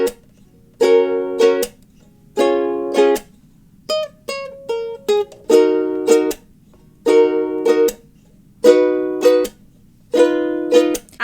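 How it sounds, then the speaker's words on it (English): Ukulele strumming pattern for the intro of a song. Bright chords come in short repeated bursts of quick strokes with brief gaps between them, plus a busier middle section, all close and with no talking. "So overall, the strumming pattern for the intro should sound like this all together."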